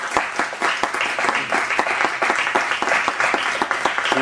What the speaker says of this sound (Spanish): Eso se merece un aplauso.